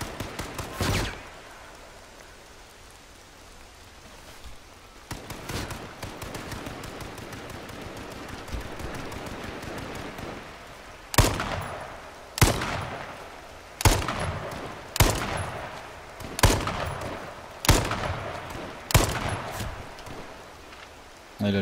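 Gunfire in the battle royale game H1Z1, single sharp shots spaced roughly a second apart and growing more regular toward the end, loud and close over a steady rain-like background hiss.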